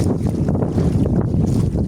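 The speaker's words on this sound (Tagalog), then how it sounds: "mahangin." Strong wind buffets the microphone at sea at night in a continuous, rumbling roar with gusty fluctuations, close and loud.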